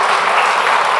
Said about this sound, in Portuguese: Vamos aplaudir o Senhor pela sua palavra.